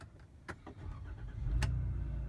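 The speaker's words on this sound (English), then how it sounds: "click the start button to start the car" A 2016 Chrysler Town and Country minivan starting with the push button: a couple of brief clicks, then a short cranking burst that settles into a steady low engine hum, heard close by.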